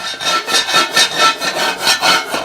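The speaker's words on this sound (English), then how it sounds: "Here's that cracking sound I was telling you about." Dense crackling and rustling with a rough, rasping texture, swelling in steady waves about every quarter second, close and fairly loud with no voices.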